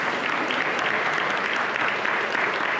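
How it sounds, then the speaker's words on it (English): An audience at a political forum for New York Democratic attorney general candidates breaks into applause, a dense, steady clapping from a moderately sized crowd lasting a few seconds without speech. "You get claps for beating a Republican in here."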